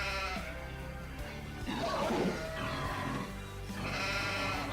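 Sheep bleat in Farming Simulator 2017, with several drawn-out, wavering calls overlapping against a constant game background.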